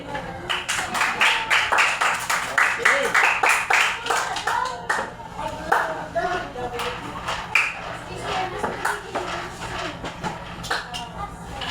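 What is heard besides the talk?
schoolchildren clapping for themselves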